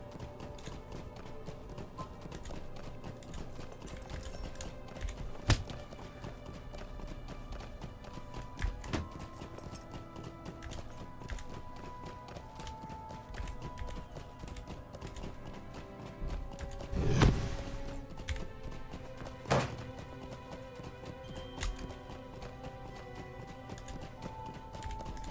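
Horse hooves gallop in the Lord of the Rings Online video game, a steady, fast clip-clop that runs for the whole stretch, with a heavier thump partway through.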